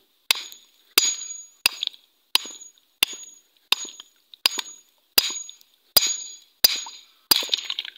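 A rock at a riverside is struck over and over to crack it open, giving eleven sharp, ringing clacks at a steady pace, each with a short metallic ring, close and loud with no talk.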